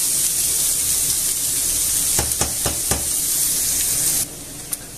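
Onion and garlic browning in a pan, a loud continuous close sizzle with a few sharp clinks of stirring midway before the frying hiss drops noticeably near the end.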